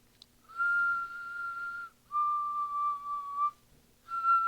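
Someone whistles Negan's short, clear melody from The Walking Dead, three sustained phrases with brief pauses between them, close and alone against near silence.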